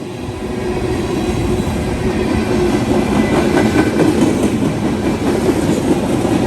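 Freight train rail cars rolling past on a CSX line, a loud continuous rumble with clickety-clack wheel beats, close and steady throughout.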